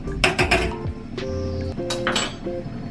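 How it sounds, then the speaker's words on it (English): A metal spoon scrapes and clinks against a cooking pot while stirring lentil curry, a few sharp taps and rattles close by, with a low background hum and no talking. "Get a spoon, just stir it up a little bit"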